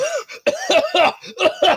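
A voice imitates coughing: five or six rough, throaty bursts in quick succession, close and fairly loud.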